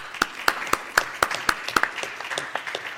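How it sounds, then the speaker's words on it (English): Conference audience applauding panelists at the close of a session on transcoding, with a steady patter of claps rising into sharp, regular beats across the room before easing off near the end. "A round of applause, please, for our panelists."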